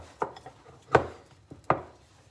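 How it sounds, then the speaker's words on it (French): Bread dough for panini is punched down on a work surface, producing three soft, dull thuds about a second apart with light rubbing between them, close and alone. "Là je vais venir dégazer ma pâte"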